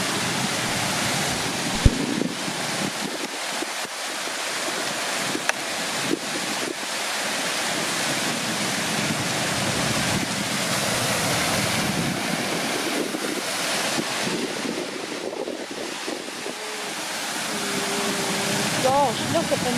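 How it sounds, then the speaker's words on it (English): Wind-driven waves churn across Gasper Lake in Wiltshire, a continuous wash of choppy water under heavy gusting wind and microphone buffeting throughout. "look at the movement of the lake now. It's like a sea."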